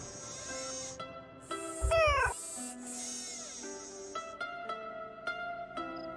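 A cat meows repeatedly in the Nancy Drew game Shadow at the Water's Edge: several drawn-out, close meows, one rising into a harsher wail midway, then a string of shorter clicks and tones.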